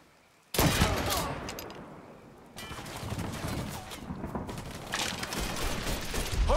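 Dense, sustained gunfire from a Mafia III shootout, bursts of rapid shots and loud cracks rolling almost continuously after a sudden start, with a brief lull midway before the barrage swells again.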